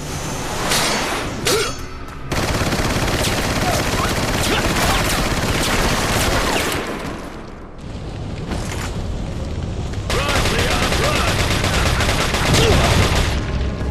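Gunfire from Resident Evil 4 rattles in loud, dense bursts of rapid shots with booming impacts, nearly continuous with a short lull in the middle, while a player talks over it.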